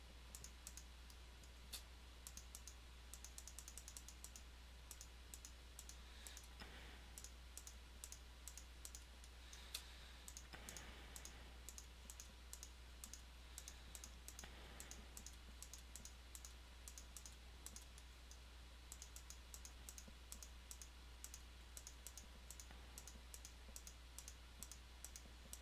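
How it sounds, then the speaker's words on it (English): Rapid computer mouse clicks tick on and on at a quiet level, dense bursts of sharp little taps during a building session in a park-building game, over a low steady hum and with no speech. "Nothing but the sound of clicking of mice"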